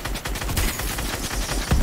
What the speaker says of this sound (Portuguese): eles também estão atirando